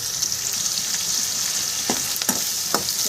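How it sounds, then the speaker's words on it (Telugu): Onions, garlic and chillies frying in oil for a ridge gourd curry, a loud continuous close sizzle punctuated by a few sharp scrapes of a spoon stirring the pan. "మిరపకాయలు కూడా వేసేస్తున్నాం కదండి ఇప్పుడు బాగా కలుస్తుందా"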